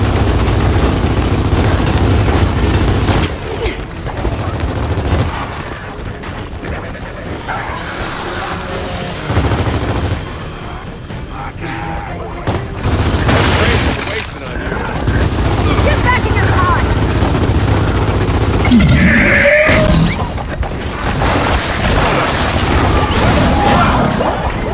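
Dense, loud bursts of automatic gunfire and heavy booms erupt almost nonstop in Gears of War 4 combat, with brief lulls between volleys and voices shouting over the action.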